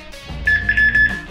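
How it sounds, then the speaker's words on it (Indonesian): A short electronic alarm beep sounds from a CCTV camera app, a steady high pitched tone pulsing in a quick burst of several beeps, loud and close with nothing else over it. "alarm ni kita boleh, dia akan ada beep kat situ"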